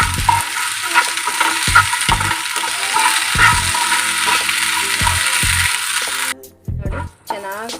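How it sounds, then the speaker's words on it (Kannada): Okra (lady's finger) with dal and a pinch of salt frying in a pan, giving a loud, steady sizzle with repeated rhythmic scraping strokes of a stirring spoon that ease off near the end. "ಇವಾಗ ಇದನ್ನು ಚೆನ್ನಾಗಿ ಫ್ರೈ ಮಾಡ್ಕೊಳ್ತೇನೆ ನಾನು"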